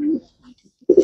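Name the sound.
pigeon cooing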